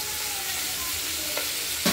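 Tomato pieces and potatoes frying together in a pan give a dense, close hiss of sizzling oil, with a couple of brief stirring scrapes near the end.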